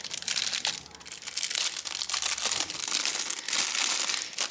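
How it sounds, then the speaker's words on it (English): Thin plastic bag crinkles and rustles continuously at close range while an iPhone 12 Pro Max rear camera module is worked free of it, a dense, busy crackling with no talk. "Now if I can get it out of this bag"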